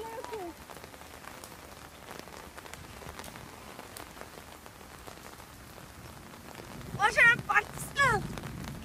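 Steady rain falls on open wetland where large water lilies grow, a dense even hiss throughout, with faint talk near the end.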